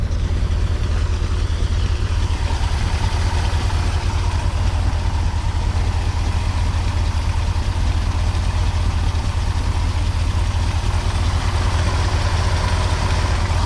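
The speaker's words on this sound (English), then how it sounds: "I'm just going to turn the engine over to get the fuel pumped up, and then I'm going to drop some fuel down here to see if she starts" A 1969 Chevrolet Corvette with the L68 engine runs at a steady, deep idle right after starting, a continuous low rumble with no talking over it.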